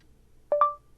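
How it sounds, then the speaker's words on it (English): A short two-tone electronic beep from a voice command prompt, a lower tone followed immediately by a higher one, clear and isolated against near silence. "Speak after the beep."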